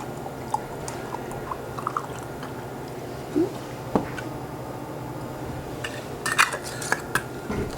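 Sugar-coated fruit shaken in a container with vodka to muddle it, giving scattered clinks and knocks against a faint watery background, a quiet pause, then a brief burst of rattling near the end.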